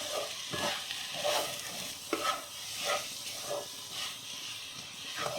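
A beetroot and potato patty mixture with bread crumbs is stirred in a pan, giving repeated scraping, sizzling strokes at a steady rhythm, close and fairly loud, with no talk.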